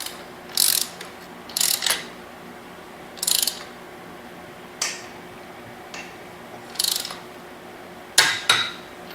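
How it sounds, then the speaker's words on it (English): Torque wrench ratcheting on the rear axle nut of a Rawrr Mantis X Pro electric dirt bike, a series of short, sharp ratchet clicks in separate bursts, fairly close and clear over a quiet background. "For tightening the axle, we want to use a torque wrench."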